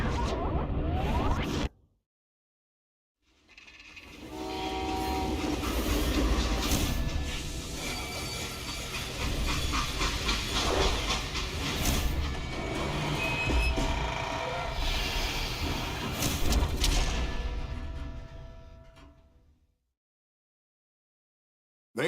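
Freight train in the Call of Juarez Gunslinger video game, a long, loud rumbling run with clattering and metallic rattles, starting abruptly after a brief silence and cutting out near the end.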